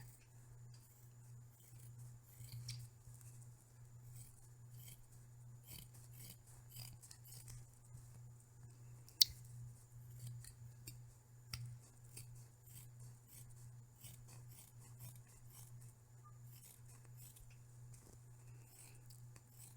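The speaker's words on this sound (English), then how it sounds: "very carefully cut all the way around the design, and be very careful, do not clip through that stitching" Scissors snip carefully around an embroidered in-the-hoop camper bag design, faint scattered cutting clicks and rustles over a steady low hum, with no talking.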